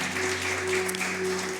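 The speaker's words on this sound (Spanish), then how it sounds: "Bueno, un aplauso fuerte, sí." A church congregation applauding visitors, a brief, steady wash of clapping over a constant electrical hum in the hall.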